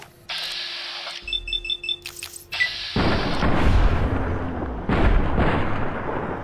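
Gunfire from a Fallout: New Vegas firefight, several sharp booming shots after a brief stretch of quiet game tones, followed by a loud rumbling roar of action that swells again near the end.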